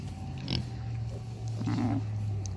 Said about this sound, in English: Just too many pigs.